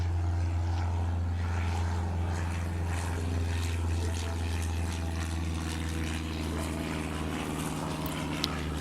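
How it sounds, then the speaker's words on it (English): Steady drone of a vintage propeller plane from the 1920s taking off or landing at a game airport, a continuous low engine hum with a brief chirp near the end. "A little chirp there is a plane landing or taking off"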